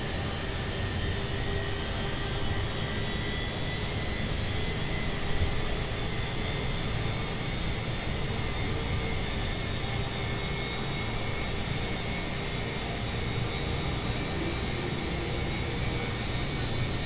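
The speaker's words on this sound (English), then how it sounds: "We'll move on to start engine 1." Engine 1 of a British Airways airliner is started at Heathrow, heard as a steady, even jet drone with a faint high whine layered over a low rumble throughout.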